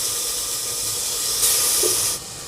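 Chicken pieces hit hot butter in a soup pot and set off a loud, steady sizzling hiss close by, which swells midway and then settles to a softer simmer.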